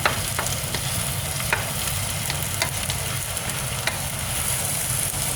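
Vegan crumble keema with cilantro is stirred in a hot pan, a steady close sizzle with light spatula scrapes and taps ticking through it.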